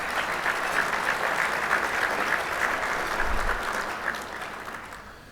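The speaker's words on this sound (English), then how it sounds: "Let's give those folks a round of applause." A luncheon audience at a city's state-of-the-city address claps steadily in a sustained round of applause that gradually fades, with a brief low thump partway through.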